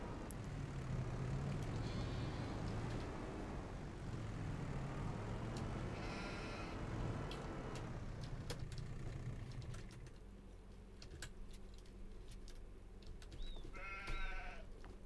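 Sheep bleating in Farming Simulator 25, a steady farm ambience with layered livestock and engine-like drone, and a couple of distinct bleats rising out near the end.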